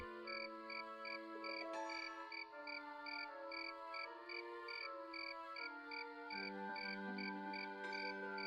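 Night ambience in Daggerfall Unity: a steady, layered chorus of crickets and other chirping creatures keeps up high repeating trills that shift slightly in pitch, with no talking.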